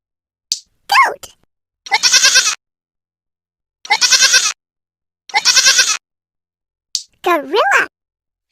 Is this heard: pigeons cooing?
no